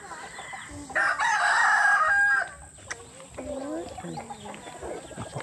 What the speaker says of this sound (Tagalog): Manok panabong.